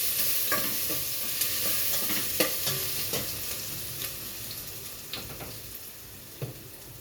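Ingredients for dinuguan sauté in a pan, a steady sizzle and fry with scattered stirring clicks and scrapes of a utensil, close and continuous with no talking.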